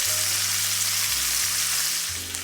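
Steaks with thyme frying in a hot pan give a steady, close sizzle that holds evenly throughout, with a low hum beneath and no voices.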